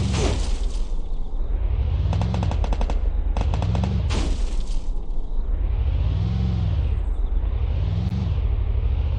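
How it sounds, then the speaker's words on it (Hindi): Rapid bursts of automatic gunfire from the video game Garena Free Fire, loud and close, repeating in several volleys over a continuous rumbling background. "अबे गोलियां पड़ रही है बहुत ज्यादा।"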